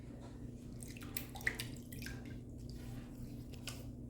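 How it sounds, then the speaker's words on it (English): Water splashed onto the face before a wet shave, heard as faint, scattered drips and small splashes over a quiet, steady background. "Let's get some water on the face because, as you know, hydration is important."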